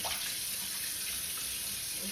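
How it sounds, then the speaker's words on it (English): Tap water runs steadily into a kitchen sink as carrots are rinsed, an even splashing hiss with no break throughout. "So simply wash those carrots down the same way."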